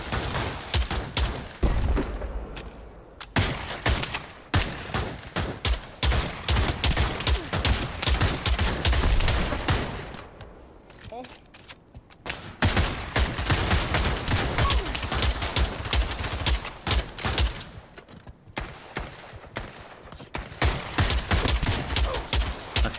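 Continuous heavy gunfire from several weapons in the VR shooter Pavlov Shack, with rapid automatic bursts and shots layered loudly almost throughout and a couple of short lulls between.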